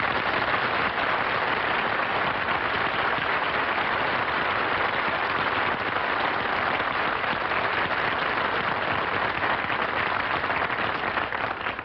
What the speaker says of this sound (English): I didn't mind the applause he got on his entrance